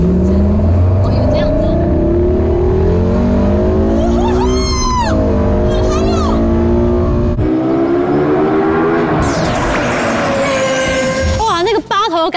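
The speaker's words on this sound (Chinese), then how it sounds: "全油门大放送 ，LFA 美丽的声浪" A Lexus LFA sports car engine revs hard at full throttle during a sports car showcase event, its loud, rising and falling wail sweeping up in pitch several times over a steady rumble.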